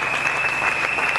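A church congregation claps together in dense, continuous applause, loud and close, with a sustained high ringing tone running underneath.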